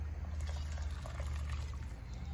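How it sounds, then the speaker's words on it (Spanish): Water pours steadily into a pot of yellow rice cooking with blended garlic and onion, a continuous liquid splashing under a low, steady hum from the stove. "Y aquí le vamos a poner las otras dos tazas de agua,"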